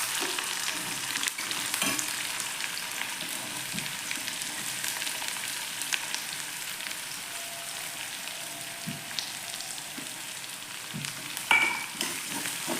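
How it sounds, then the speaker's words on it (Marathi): Onion sizzling in hot oil in a kadhai with cumin and mustard seeds, a steady continuous frying crackle with occasional stirring clinks and pops, alone with no talk. "कांदा आता लालबुंद होईपर्यंत परतवून घेऊया"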